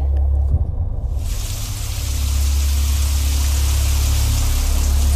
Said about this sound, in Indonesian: ternyata di luar hujan